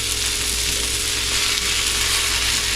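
Fajita vegetables sizzling in a hot pan, a dense, steady hiss that holds loud and close throughout with faint stirring underneath.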